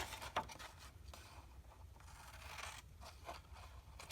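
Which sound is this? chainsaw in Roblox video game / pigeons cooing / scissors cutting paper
scissors cutting paper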